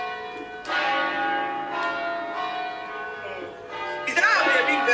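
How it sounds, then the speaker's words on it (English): Church bells ringing in Italy, a steady resonant peal of overlapping tones that carries on throughout, with a brighter clang near the end. "Is that how they ring bell in Italy?"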